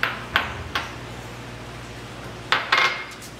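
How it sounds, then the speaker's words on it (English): Small bowls being set down and knocked together in a kitchen, a few sharp ceramic clinks at the start, then a pause, then two or three more close clinks. "So I've got these small bowls."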